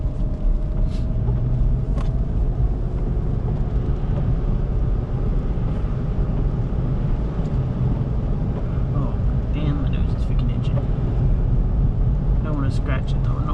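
A car drives at night in the rain, steady broadband road and rain noise rumbling continuously in the cabin, with occasional faint ticks and brief higher tones over the constant wash.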